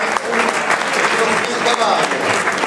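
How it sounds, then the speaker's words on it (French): An outdoor crowd at a cycling race podium in Mauvezin claps loudly and continuously, with voices and cheers mixed into the dense applause. "les trophées et applaudissements du public"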